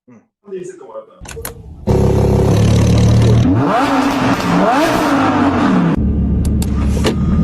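An Audi R8's rear-mounted, non-turbo engine revs hard and holds a deep, powerful roar for several seconds, with brief noises and a voice before it kicks in.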